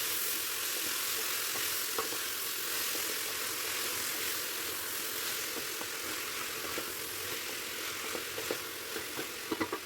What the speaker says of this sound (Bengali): তারপর আবারও আমি 5 মিনিট একটু নাড়াচাড়া করে নিচ্ছি